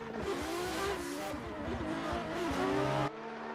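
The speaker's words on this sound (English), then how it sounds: "Skew in the lead in the S15, Ryland in the chase in the BRZ" Nissan S15 and Subaru BRZ drift cars race in tandem at the Nurburgring, their engines roaring and revving loudly as tires squeal through the corner, ending in an abrupt cut.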